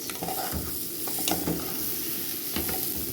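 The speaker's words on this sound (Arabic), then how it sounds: "بس انا كده شوحت الرز كتير اهو عشان يبقى مفلفل" Rice being stir-fried in a pan while a spoon scrapes and tosses it, giving a soft steady sizzle broken by repeated clinking stirring strokes, close and without talk.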